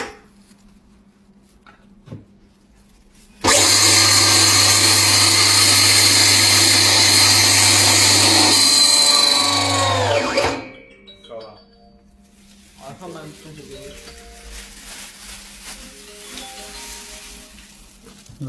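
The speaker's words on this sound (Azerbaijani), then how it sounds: "bu kimi də bəzi məhsulları aparat vasitəsilə rahatlıqla üyüdüb toz alına sala bilərsiniz" An electric grain grinder pulverises table salt into powder, a loud whirring roar for about seven seconds before it winds down and stops, followed by a quiet room with faint voices.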